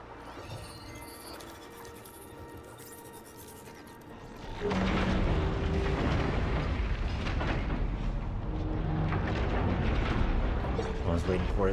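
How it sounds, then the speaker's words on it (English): A loud explosion in Horizon Forbidden West bursts in after a quieter underwater stretch near kelp, followed by a sustained rumbling roar, with some voice under the noise. "I was waiting for it to explode"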